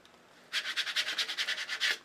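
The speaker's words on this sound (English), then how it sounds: "use your scraper tool to flatten it out" A plastic scraper tool is rubbed over layered adhesive craft vinyl to flatten it, making about a dozen quick, rhythmic scratchy strokes up close after a brief quiet moment.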